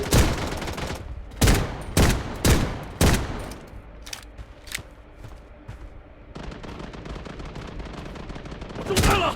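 Gunfire in the shooter game Blood Strike, with loud close bursts of shots in quick succession, then a stretch of quieter distant firing before another heavy volley.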